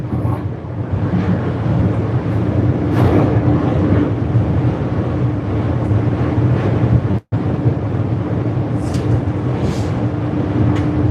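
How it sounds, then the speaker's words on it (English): Strong wind buffets the microphone outdoors at a potato farm in Fife during truck loading, a loud, steady, rushing roar with gusty swells that lasts the whole time, briefly cutting out once. "I don't know if you can hear it, but it's really windy."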